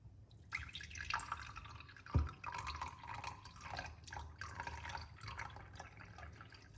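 Liquid trickles and splashes softly and continuously as garlic and cinnamon liquid is poured off, with a brief low thud partway through, quiet and close with no talking.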